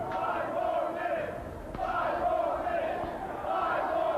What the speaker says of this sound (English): The crowd chanting for 5 more minutes as Fred Richards raises both of their arms.